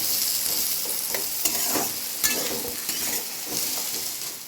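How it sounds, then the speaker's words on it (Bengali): Vegetables with a little oil, salt and turmeric frying in a wok, a close, steady hiss of sizzling broken by repeated scraping stirs and clinks of a spatula. "প্রথমে আমি একটু সবজিগুলোকে ভেজে নেব।"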